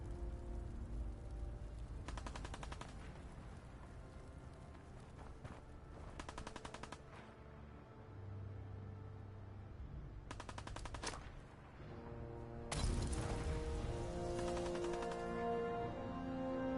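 Video game fireworks set off underwater crackle in several rapid, gunfire-like bursts separated by quieter stretches of game ambience, with a longer louder burst near the end and no talk.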